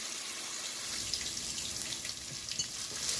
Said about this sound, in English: Now we're gonna cook the tomato base combined with all the ingredients.